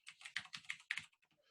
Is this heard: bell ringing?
no